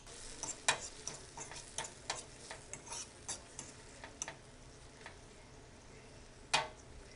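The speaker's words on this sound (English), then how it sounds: "mix it around and turn up the fire to about medium so it can saute" Food sautéing in a pan over medium heat: a faint, soft sizzle with light scrapes and taps of a utensil stirring, irregular and quiet throughout.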